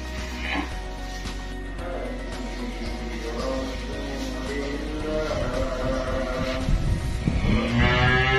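Six-month-old Simmental calves at a calf dealer's pen in Kediri, East Java, low and moderately loud, with drawn-out moos rising over constant barn noise and a steady low hum.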